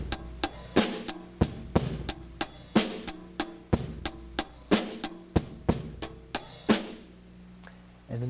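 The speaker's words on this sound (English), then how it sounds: "I'll be doing an 8th note addition on the bass, and it'll sound like this." A beginner blues drum beat with an eighth-note bass drum addition: steady, evenly spaced kick and snare hits with ringing cymbals, moderately close, ending on a crash that decays.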